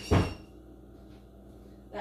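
An interior door is pushed shut, giving a single close, muffled thud near the start, followed by quiet room tone and a faint knock at the end.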